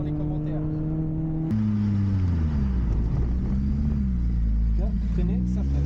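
A Honda Civic Type R's VTEC engine drones steadily while driving, its tone shifting up and down with revs, loud and close throughout.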